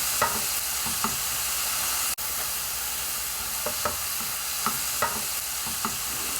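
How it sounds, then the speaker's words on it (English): A spoon stirs khlea, Moroccan preserved dried meat, into a pan of onion filling that is frying and starting to brown, with soft sizzling under repeated light scraping taps of the utensil at a steady pace. "Add the Khlea and mix."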